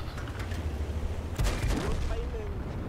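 Tank cannon fire in the video game World of Tanks during a Type 64 battle replay: one sharp, loud boom about halfway through, rising over a steady low engine and battle rumble.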